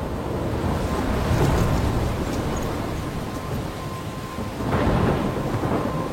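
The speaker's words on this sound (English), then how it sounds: "I'm trapped in a storm?" A thunderstorm with steady heavy rain and wind, a broad roaring wash throughout, with a louder swell of rumbling thunder late; no voices.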